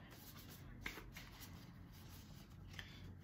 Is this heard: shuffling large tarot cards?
yes